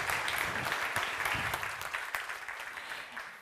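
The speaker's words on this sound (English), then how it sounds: "I think they deserve another applause." Audience applause after a talk at the Gateway to Cosmos 2023 conference, dense steady clapping from a crowd that holds strong, then thins and fades slightly toward the end.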